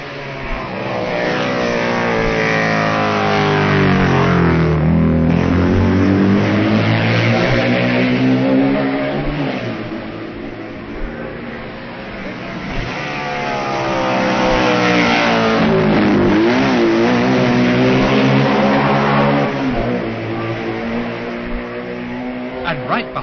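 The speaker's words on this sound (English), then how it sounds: "And here already at Balaf Bridge, 16 miles out, are the BMWs of Camathius and Scheidegger." BMW sidecar racing outfits at the 1965 TT race on the Isle of Man tear past at Ballaugh Bridge, engine notes rising then falling in two loud passes with Doppler sweeps, under a commentator's voice.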